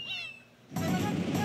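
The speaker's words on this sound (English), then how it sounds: "What do you want, cat?" A cat meows once, a short, rising and falling call close by. A louder burst of bright game sound from Super Mario Galaxy cuts in midway and swamps everything after it.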